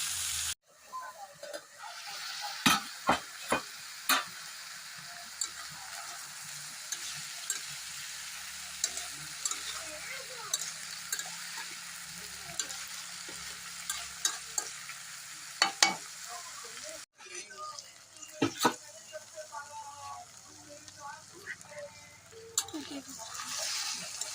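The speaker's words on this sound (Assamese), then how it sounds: "আঞ্জাখিনি ভালকৈ লাৰি দিম।" Banana and taro curry sizzles steadily in a frying pan while a spoon scrapes and clanks against the pan in scattered sharp knocks, close and moderately quiet.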